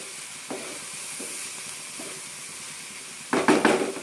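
Vegetables stir-fry in a pan for a veg pizza topping, a low steady sizzle with a few soft spatula scrapes, then a louder clatter of utensil against pan near the end.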